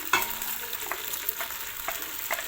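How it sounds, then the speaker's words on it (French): Onions frying in a pot of lamb chorba with vermicelli, a soft continuous sizzle close by, broken by a few light scrapes and clicks as a utensil stirs them. "je rajoute mes oignons"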